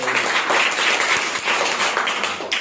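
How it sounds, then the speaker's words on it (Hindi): A group of children claps loudly and steadily in a classroom, a dense burst of applause for a classmate lasting a few seconds. "अमन के लिए ताली बजाओ"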